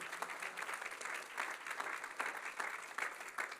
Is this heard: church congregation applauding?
yes